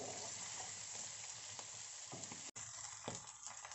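Boiled potatoes stir-fried for jeera aloo, sizzling steadily in a hot pan with a few soft scrapes and stirs of the spatula, close and continuous with no talking.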